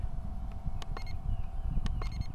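Short electronic beeps from a UDI Navigator 31W quadcopter drone's controller, a few separate tones heard outdoors over steady wind noise.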